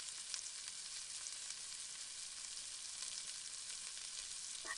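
Chopped snake gourd sizzles and fries steadily in a hot pan, a soft continuous crackle with no one talking.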